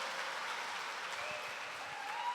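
A church congregation claps together in a steady, dense patter of applause that continues evenly throughout, with no voices standing out above it.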